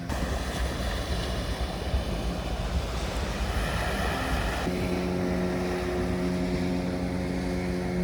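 Steady engine drone of a fishing boat out at sea off the Karnataka coast near Udupi, continuous and fairly loud with a tonal hum that shifts partway through, over a wash of wind and water.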